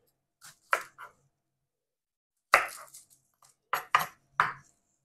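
Onions being chopped with a knife in a kitchen during a road trip, a few sharp close knife strikes on a board in two short bursts separated by silence.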